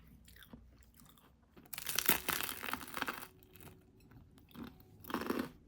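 Close, crisp crunching and chewing of a pistachio snack, in bursts of bites with brief pauses between them, with no talk.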